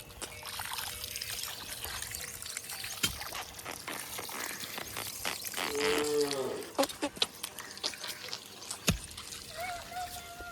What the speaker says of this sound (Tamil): மாடு.